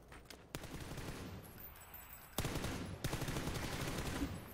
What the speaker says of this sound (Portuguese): Nossa, eu dei muito tiro nesse cara